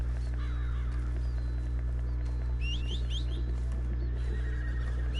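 Horse whinny in Red Dead Redemption II, a white legendary horse ridden in the game, heard faintly over a steady low ambient hum with crow caws and bird chirps scattered through the scene.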